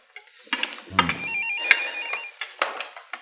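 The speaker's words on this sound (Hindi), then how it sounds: "साईं अकबर जी का फोन है आपके लिए।" An old-style telephone bell rings in a Pakistani drama scene, a few short electronic trills heard indoors with faint background noise, fairly near.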